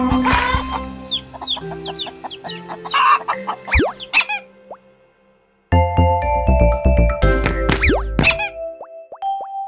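Hens clucking in a children's nursery song, cartoonish squeaky clucks and boing-like accents bouncing over a bright musical backing, with a brief quiet gap midway before the tune resumes.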